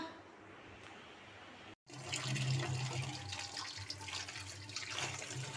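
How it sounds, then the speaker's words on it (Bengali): Chopped taro root being rinsed by hand in water in a kitchen, with steady splashing and sloshing, a brief break near two seconds, then continuing water swishing that is fairly close and moderate in level. "বন্ধুরা যে কচু কাটছি কাইটা এখন এই যে ধুয়ে নিতেছি সুন্দর কইরা"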